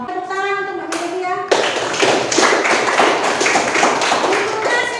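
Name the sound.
classroom applause for a student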